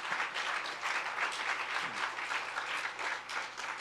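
Church congregation claps in thanks for volunteers, a full steady round of applause from many people in a hall, even and continuous without talk.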